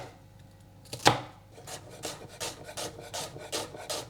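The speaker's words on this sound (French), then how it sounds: "Je vais également hacher mon échalote." A knife chops a shallot on a board: one sharp knock, then a quick run of crisp, even chopping strokes close by.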